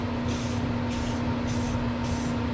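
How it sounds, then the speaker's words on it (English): Four short hissing bursts of aerosol spray applying a coating, each under a second, evenly spaced over a steady low background hum. "you can spray this repeated coats"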